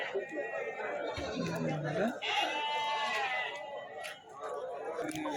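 Goats bleating amid a busy outdoor crowd at a weekly goat and sheep market in Kadiri, with several wavering calls over chatter and people talking nearby.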